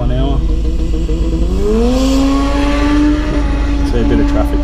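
A drag-racing car makes a pass at about 139 mph on a track, its engine note rising steadily as it accelerates in one continuous loud drone, with someone talking over it.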